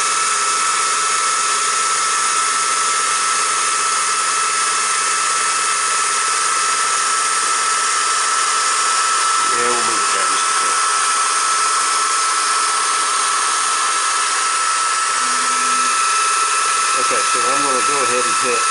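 Atomstack A20 laser engraver burning a sugar-skull design into cedar, a steady high-pitched whine and motor hum running throughout with brief shifting tones as the head moves.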